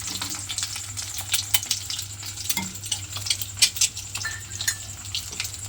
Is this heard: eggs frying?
yes